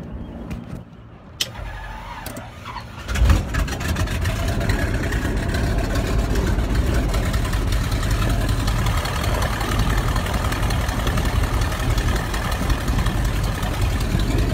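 An old radial biplane engine catches after a few cranking sputters and settles into a loud, rough, steady idle that fills the rest of the clip.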